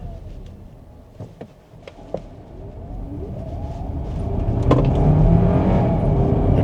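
Kia Sorento HEV hybrid SUV picking up speed on a road, a low engine and road rumble that grows steadily louder over several seconds, heard from inside the cabin with a few brief clicks early on.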